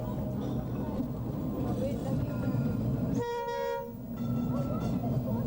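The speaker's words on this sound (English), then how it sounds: "young and old alike enjoying a trip in the tram" A tram rumbles steadily during a ride at the Glasgow Garden Festival while a crowd chatters, and a bright horn-like toot sounds briefly partway through.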